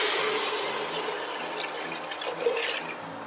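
Water pours steadily into a pot of potage for a cream of cauliflower soup, a continuous close splashing rush that tapers slightly over a few seconds, with no talk.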